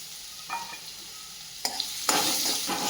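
Chopped raw totapuri mango stirred into a hot spiced tempering in a pan, with a short scrape and sizzle before a louder, steady frying hiss takes over toward the end.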